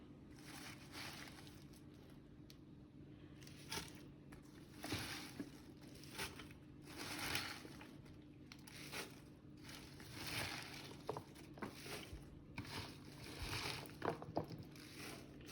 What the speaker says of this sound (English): And then I'm going to go ahead and add the greens in.